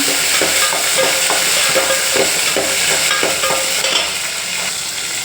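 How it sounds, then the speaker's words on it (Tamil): Steady sizzling from garlic and a small tomato sautéing in a pan, with a utensil stirring and scraping in a loose, repeated rhythm, close and loud. "அது கூடவே ஒரே ஒரு சின்ன தக்காளி அதையும் போட்டு வதக்கிக்கோங்க"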